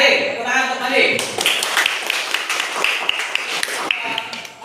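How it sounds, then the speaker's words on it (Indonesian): A classroom group claps briefly after a student's answer, scattered close-up hand claps starting after a moment of talk and continuing unevenly, with voices nearby. "Tepuk tangan untuk Andi"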